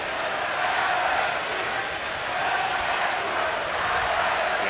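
LSU baseball fans in the outfield at the 2017 College World Series stand and cheer, a dense, steady stadium roar that stays loud and unbroken throughout with no pauses.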